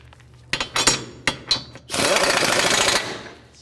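A 19mm socket on a power tool tightens the lower control arm bolts of a 2006–2018 Toyota RAV4. It gives several short, loud mechanical bursts, then one sustained, harsh whir of about a second, all close by.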